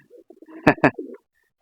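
Two loud, close pigeon coos, including a Giribaz pigeon, rise out of softer, low murmuring coos, a brief burst of cooing from nearby birds.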